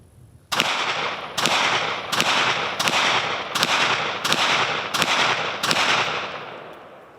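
A Kel-Tec PMR30 pistol fires eight sharp shots in a fairly even rapid sequence outdoors, each crack close and loud with a short decaying echo, and no talking.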